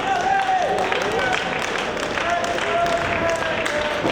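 A wrestling crowd at a Ring of Honor match claps and cheers steadily in a continuous wash of applause, with commentary talk running over it.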